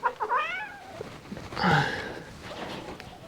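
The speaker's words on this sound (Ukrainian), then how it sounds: "Коти тут бігають, один раз їсть." Farm cats meowing at a Swiss farm, several clear rising-and-falling meows near the start and a louder, drawn-out meow in the middle, close to the microphone with faint background noise between calls.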